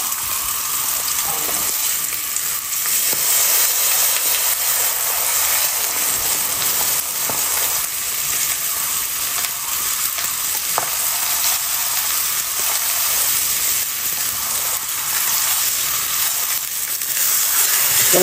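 An Ito wagyu ribeye steak sears in a hot pan, a loud, continuous broadband sizzle that runs steadily throughout with slight swells, and a quiet voice occasionally speaks underneath.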